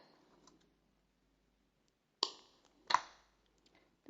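Scissors snipping yarn while making an amigurumi flower pot: two sharp, fairly close cuts about a second apart, with a couple of faint clicks before, and no talking.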